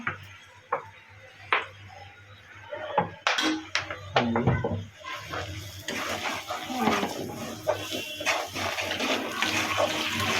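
Water is poured into a curry of garlic and ginger paste, salt, turmeric and chili powder, giving a steady splashing, sizzling wash that builds after several sharp knocks and clatters near the start.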